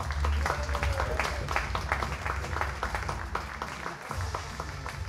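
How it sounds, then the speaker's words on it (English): Spectators at a 50 m rifle three-positions final applaud a shooter's introduction, a moderate spread of clapping over a low boomy rumble of the hall, continuing steadily with scattered sharper claps. "Big applause for Didier Richard."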